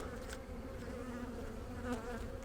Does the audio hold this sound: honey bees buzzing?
yes